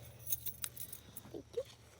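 Shed keys jangle in a few short metallic bursts, close and fairly quiet against a low background hum.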